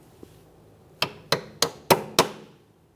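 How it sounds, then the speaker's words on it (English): Five quick, sharp taps knock a brake hose locking clip into place on a 2014-2019 Toyota Corolla, evenly spaced, close and crisp, with a tiny faint click just before them. "Go ahead and tap that into position."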